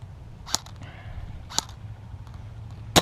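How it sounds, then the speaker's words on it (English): Enemy gunfire in a video game sounds as a few sharp, separate cracks, one near the start, one in the middle and a louder one at the end, over a low steady hum. "That guy's shooting at us, he doesn't have range."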